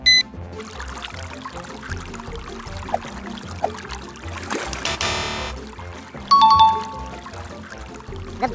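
Water pushed along by a pump through a LEGO Technic lazy river, with a steady pouring and trickling flow, a brief louder gush midway and a few light chiming tones near the end, no talk.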